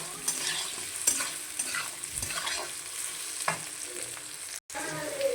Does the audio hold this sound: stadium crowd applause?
no